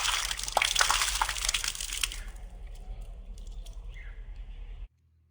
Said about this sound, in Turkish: Su buz gibi akıyor